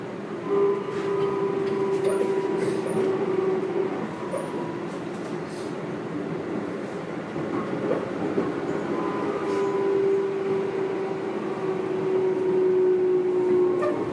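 Keikyu New 1000 series train set 1449, a unit with abnormally loud, odd noise, running between Kanazawa-hakkei and Kitakurihama: a steady loud rolling roar heard from inside the car, with sustained motor whine tones and faint rail clicks.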